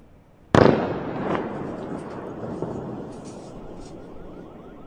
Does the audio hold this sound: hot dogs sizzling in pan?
no